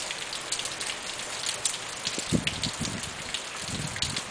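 Steady rain patters down over a constant wash of falling water, with scattered louder drips and splashes landing nearby; no voices.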